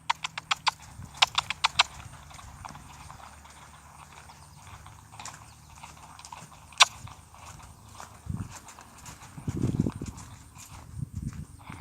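A horse asked to canter on a longe line, its hooves thudding in an uneven rhythm of clustered hoofbeats, fairly close, with a few louder footfalls and shuffles; no talk over it.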